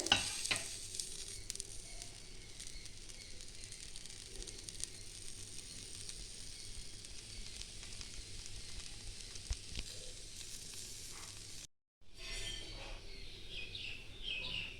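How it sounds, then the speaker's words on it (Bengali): A steady, soft rustle of jackfruit seeds being stirred and roasted in a dry pan, continuous and fairly quiet, with a brief gap near the end. "একটু হালকা করে নেড়ে নেবো পাঁচ দশ মিনিট একটু ভাজলে"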